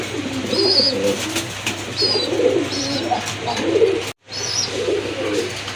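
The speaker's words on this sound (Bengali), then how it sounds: "মাশাল্লাহ দেখেন আরেক জোড়া কবুতর চলে আসছে।" Pigeons coo repeatedly in low, throaty phrases, with occasional higher chirps above them and a steady background hum. A brief dropout cuts in near the end.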